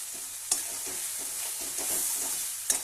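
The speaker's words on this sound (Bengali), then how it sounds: "এটা শুধু মশলার সঙ্গে কষাবো।" Cauliflower florets, already boiled soft, stir-fried with spices in a pan, giving a steady close sizzle broken by a few sharper scrapes and stirring knocks, with no voices.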